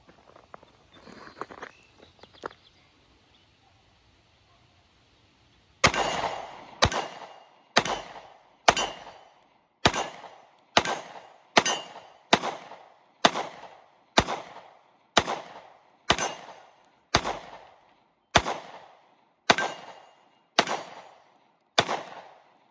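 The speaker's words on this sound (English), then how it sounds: "All right, so we're gonna take a few shots, let you know how it shoots and what we think of it." Canik METE MC9 LS pistol fired roughly fifteen times at a steady, evenly spaced pace, each loud sharp crack ringing briefly, after a few seconds of quieter handling noise at the start.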